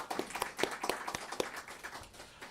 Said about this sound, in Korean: 여러분의 헌신과 수고에 다시 한번 격려의 박수를